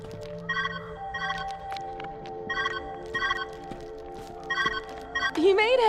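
A telephone rings in the puzzle game Viewfinder: short, bright bursts repeat about six times at an even pace over a steady tonal hum, ending with a rising warble.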